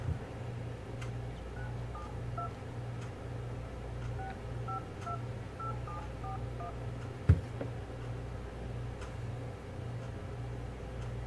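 Telephone keypad dialing tones while calling a number, a series of short beeps in two bursts under a steady low electrical hum, with one sharp click near the end, fairly quiet and without talk.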